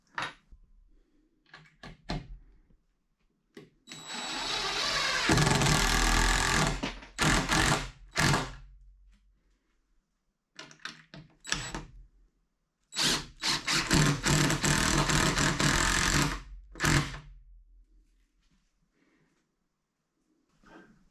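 A power drill drives number 10 structural screws into wooden bunk bed runners in short whirring bursts, several separate runs with pauses between them, close and fairly loud.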